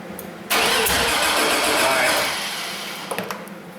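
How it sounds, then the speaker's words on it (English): A Chevy 2500HD truck engine with a no-start, no-spark, no-fuel fault cranks with a sudden loud burst, churning and sputtering for a few seconds before fading into a few short uneven coughs. "I just heard the engine kind of fart a little bit."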